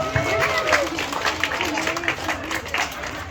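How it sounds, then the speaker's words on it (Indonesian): Audience at a farewell evening for KKN students in a village hall claps in a brief burst, mixed with crowd noise and voices. "tepuk tangan buat Kamala dulu."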